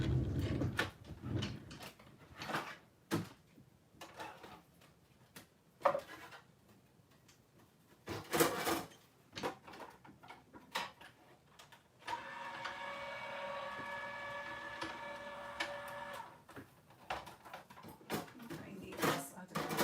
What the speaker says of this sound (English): So I'm going to run this through my machine real quick.